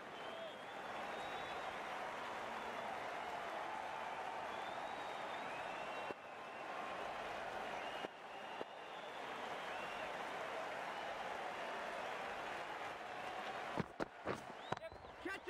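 A crowd at a NACO esports match between Miami Gators and Chicago Bullmoose keeps up a long wash of applause and cheering. Commentators talk over it, and it is broken by a few brief dips and sharp knocks near the end.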